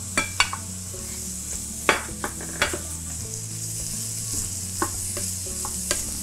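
Button mushrooms and mixed vegetables stir-frying in a pan, with a steady close sizzle and repeated sharp scrapes and clinks of a utensil against the pan, no talking.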